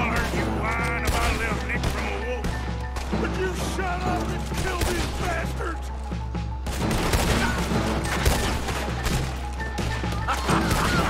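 Rapid bursts of gunfire and crashing impacts in Red Dead Redemption 2 as a whole town is shot up, layered over a constant low rumble and musical score, loud and continuous with brief lulls.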